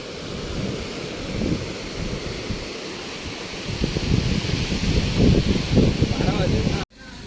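Sea waves breaking at Mandvi beach in Ratnagiri make a continuous, loud surf roar mixed with gusting wind noise on the microphone. The surges swell toward the end before the sound cuts off abruptly.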